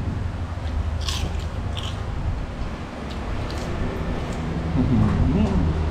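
Crunchy food being bitten and chewed close up at a Thai boat-noodle eatery, repeated crisp crunches over steady background chatter and clatter, with voices talking nearby.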